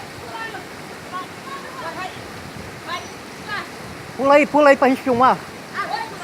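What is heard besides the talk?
Corocochó waterfall, Piabetá, Rio de Janeiro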